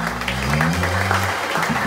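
A church congregation applauds loudly and steadily at a worship service, a dense continuous clatter of many clapping hands with voices mixed in beneath.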